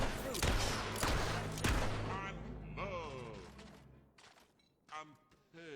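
Gunfire in the Fable 3 video game, a rapid burst of loud shots early on, followed by game sounds and a voice speaking.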